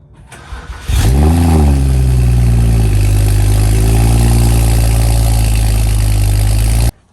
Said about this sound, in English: Here's a cold start with the muffler on.